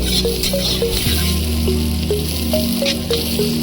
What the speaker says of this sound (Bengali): পেঁয়াজটাকে একদম লাল লাল করে ভেজে নেবো